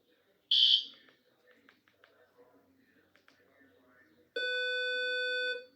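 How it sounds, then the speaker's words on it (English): A fire alarm test in a building: a short bright chime, then quiet speech, then a loud sustained electronic alarm tone that holds steady to the end. "I repeat, there is a fire alarm."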